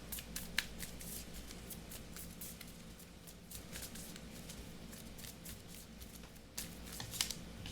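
Quiet, rapid riffling of Marvel Champions game cards being shuffled, a steady run of soft snaps with a low hum underneath.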